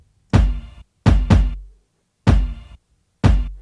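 909 kick drum layered with a funk sample, five heavy thuds with a bright, crunchy attack and short tonal body, spaced unevenly with silence between them, loud and close.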